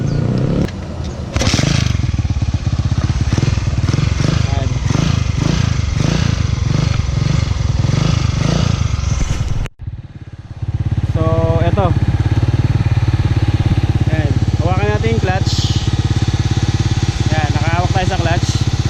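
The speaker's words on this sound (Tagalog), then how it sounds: "So, start ko yung motor ha." A motorcycle engine runs loud and steady, cuts out briefly, then restarts and idles with a rough, rumbling tone while a person talks over it.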